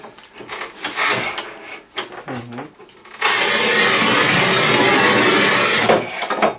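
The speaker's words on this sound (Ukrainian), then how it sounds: "Ми будемо різати декілька плиток цим плиткорізом" A Shijing manual tile cutter scores porcelain stoneware tile with a loud, close, steady scraping rasp lasting about three seconds, preceded and followed by quieter handling knocks and shuffles.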